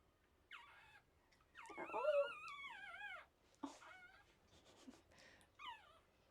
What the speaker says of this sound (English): Little puppy noises.